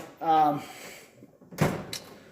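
A tool cart drawer slides open once in a short, rattling metallic burst, heard right after a person speaks briefly.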